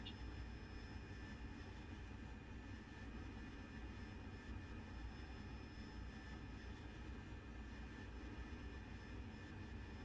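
The jet engine of an AV-8B Harrier II in the DCS flight simulator holds a faint, steady drone that stays even throughout as it slowly spools up.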